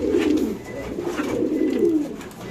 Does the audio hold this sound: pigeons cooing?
yes